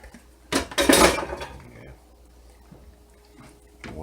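String beans tipped into a cooking pot, a short burst of clattering rattles and knocks against the metal, then quieter handling, with a person talking.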